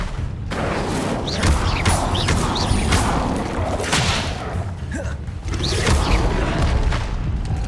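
Incendio fire spell cast in the Hogwarts Legacy video game, a loud, dense whooshing roar with booming thuds and crackling bursts that swell and fade in waves over several seconds.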